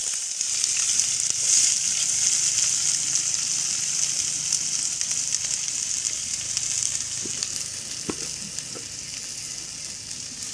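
Chopped onion, green chili, coriander leaves and ginger-garlic paste sizzle in hot oil, a steady close-up crackle that carries on for about ten seconds, with a few faint stirring knocks.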